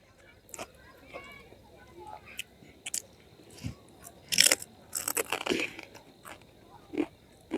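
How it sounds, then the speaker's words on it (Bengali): Crisp crunching bites of fried nimki snack, a few sharp bursts clustered mid-clip and a later one, eaten outdoors in a village with faint background noise and no talk. "আর গ্রামের মধ্যে হচ্ছে আমি নিমকি ভাজা খাচ্ছি।"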